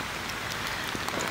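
Steady rain patters on a surface beside a carp lake at a day-ticket fishery, a dense continuous hiss with scattered close drops, alone with no voices.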